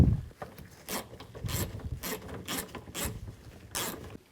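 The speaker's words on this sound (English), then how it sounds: "Now install the bolts." Bolts are driven into the interior door pull handle of a 2007-2014 GMC Sierra 3500 with a hand ratchet, giving a quiet close series of about eight rapid clicking bursts in an uneven rhythm, with no talking.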